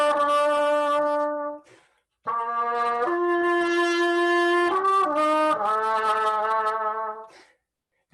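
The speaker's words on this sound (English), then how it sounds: "that is the sound of the cup mute" Cup-muted trumpet playing a short solo phrase from a song in Oklahoma, sustained soft-edged notes in two phrases separated by a brief pause, clear and close.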